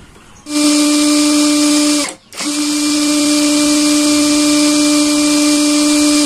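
Kamolee brushless 13mm cordless drill on a full 6Ah battery, running free in a loud steady whine that starts abruptly, cuts out briefly near two seconds, then resumes and holds constant.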